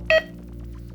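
A Caire SeQual Eclipse 5 portable oxygen concentrator gives a single short electronic beep as it powers on, heard close over a low, steady machine hum.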